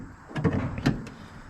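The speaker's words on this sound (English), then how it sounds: "This is my new door handle." A 1967 Chevrolet widebody car door opened by a new door handle: two quick mechanical clicks of the latch followed by a sharper clack, close and short against a quiet background.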